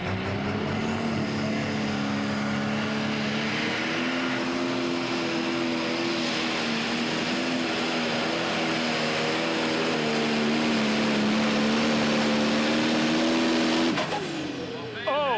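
A super modified tractor roars through a pull in a sustained, loud engine drone with a steady pitch for about fourteen seconds before cutting off abruptly, with a commentator talking over it.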